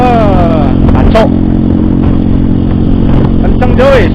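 Loud, raw exhaust of a Benelli Motobi 200 EFI motorcycle running without its silencer, a steady rough drone close by throughout with brief revving swells.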